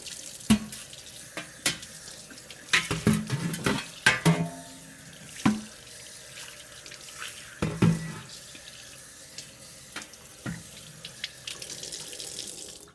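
Wooden cutting board washed by hand with a soapy sponge under a running kitchen tap, a steady stream of water broken by irregular knocks and scrubbing clatters, close and fairly quiet, with no talk.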